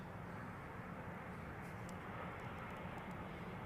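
British Airways airliner on final approach landing at London Heathrow, a steady broadband jet engine roar held at a constant level throughout, fairly distant and with no voices.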